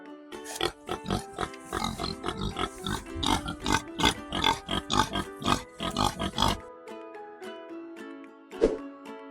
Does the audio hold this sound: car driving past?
no